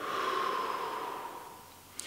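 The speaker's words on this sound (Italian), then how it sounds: "la respirazione toracica è una respirazione di questo tipo. Adesso sto enfatizzando un po' le cose. Inspiro." A slow, deliberate chest-breathing inhale drawn through the nose and mouth, a single airy breath that fades out close to the microphone, followed by a tiny click.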